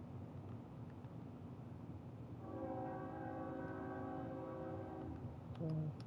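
A train horn in the game Kerbal Space Program sounds a sustained multi-tone blast partway through over a quiet rumbling background, fairly faint and distant, followed by a brief lower tone near the end.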